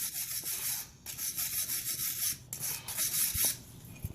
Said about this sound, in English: we're going to clean this frame up with all the rust and stuff that's on there